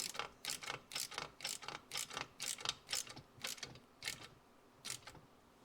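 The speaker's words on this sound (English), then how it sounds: "just back it up with a wrench over there and tighten her up" A ratchet wrench clicks steadily while tightening a bolt on a 1973 Suzuki TC125 motorcycle engine during transmission and engine assembly, a close, rhythmic run of sharp pawl clicks.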